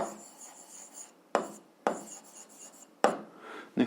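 A pen writes out a seventh-grade algebra solution on paper: a few quiet, scratchy strokes, each starting with a sharper tap of the pen, separated by short pauses.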